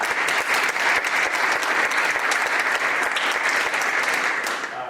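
Sustained audience applause at a church groundbreaking ceremony for First Parish of Westwood, a dense, steady clatter of many hands close by that holds loud throughout and tapers slightly at the very end.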